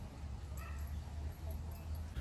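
Small dogs at a dog park in Rotary Park, Cape Coral, giving a few faint distant yips and whimpers over a steady low outdoor rumble.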